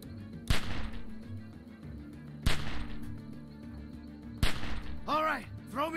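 Gunfire in Telltale's The Walking Dead: 400 Days: three sharp, loud single shots spaced about two seconds apart, with bird-like chirps after the last shot.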